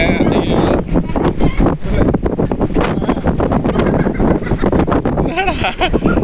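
Strong gusting wind buffets the microphone on a mountain hike at Aralvaimozhi Murugan Temple, with loud, continuous rumbling roar throughout.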